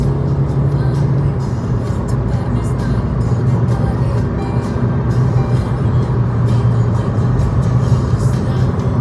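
A Skoda Octavia A5 with a 2.0 TDI diesel engine accelerates, heard from inside as a loud, steady drone and road rumble that holds throughout with little change.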